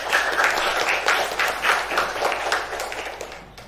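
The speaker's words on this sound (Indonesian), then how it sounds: "Tepuk tangan." Small group of classroom students clapping in quick, uneven bursts that fade toward the end, fairly close and without talk.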